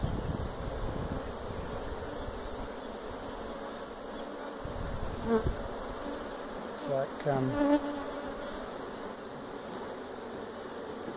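Honey bees buzzing around an open beehive during an inspection after varroa treatment, a continuous close-up drone of many insects with a few louder individual passes near the microphone, and a voice briefly speaking.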